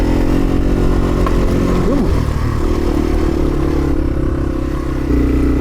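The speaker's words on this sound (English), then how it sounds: "Now my bike's riding real well and running really well." A Yamaha TW200 motorcycle being ridden, its single-cylinder engine loud and close with a steady throbbing drone, a brief rise in revs partway through, and some rattling clatter over the rough ride.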